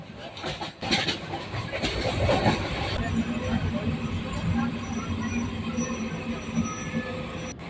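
Jamalpur Express train running near Joydebpur station, a steady rumble of wheels on track with faint clattering and a brief high squeal, heard from inside a carriage with people talking.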